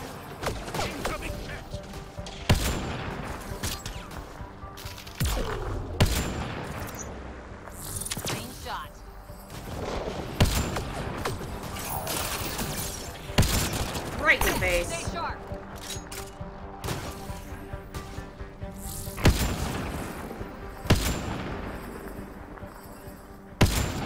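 Gunfire from an enemy firefight in Mass Effect Andromeda: repeated sharp shots and bursts crack out at irregular intervals, some loud and close, with crashing impacts between them, while a player talks over parts of the action.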